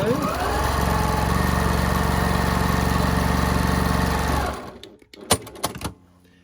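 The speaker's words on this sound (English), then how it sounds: "all we're doing now is the top stitch" A sewing machine runs steadily for about four and a half seconds, top stitching a fabric storage pod, its motor hum and rapid needle chatter loud and close before stopping, followed by a few brief handling clicks.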